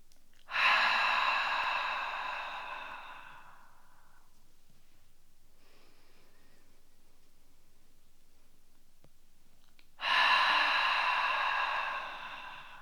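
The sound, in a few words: slow deep breathing with long exhales during exercise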